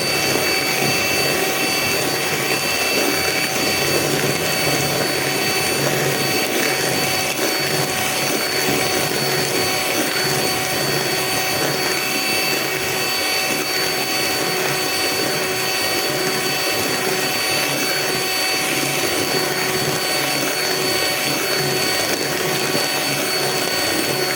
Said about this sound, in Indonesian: Ini mixernya nggak akan saya skip ya pas lagi di mixer kayak gini untuk mengentalkan